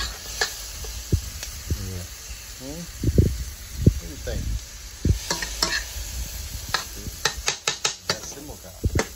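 Vegetables and Chinese sausage stir-frying in a pan, with a steady sizzle and intermittent stirring scrapes and clatters, close and moderately loud, with a person speaking briefly over it.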